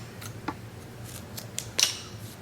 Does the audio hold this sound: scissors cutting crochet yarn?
yes